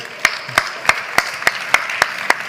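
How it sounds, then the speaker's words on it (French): Steady, evenly spaced claps, about nine sharp beats in quick rhythm, from an audience applauding chef Hubert Chanove after he finishes a dessert at a Food Cook Festival masterclass, fairly close and clear over a light room hiss with no talk. "on vous applaudit bien fort, bravo"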